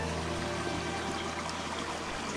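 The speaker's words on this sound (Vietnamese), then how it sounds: "Nguồn suối đó nó chảy từ trong kia ra nè." A mountain stream flowing at the foot of Cam Mountain, a steady, continuous rushing and trickling of water, moderately near, with no voices.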